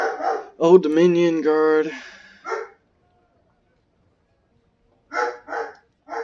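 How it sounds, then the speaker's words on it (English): A pet dog barks in short, sharp bursts in the background, several quick yaps clustered near the start and again toward the end, mixed with someone speaking over them. "My dog is going crazy in the background."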